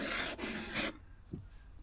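A wood chisel's back is laid flat and rubbed lightly on a sharpening stone, giving a close, steady rasping scrape for about a second before it stops, followed by a faint brief knock.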